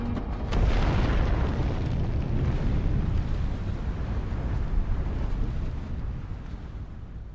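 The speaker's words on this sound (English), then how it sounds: "And fire the cannon" Cannon fire in the video game WaveTale: a heavy boom that swells into a long, dense rumbling roar and slowly fades over several seconds, loud and alone without speech.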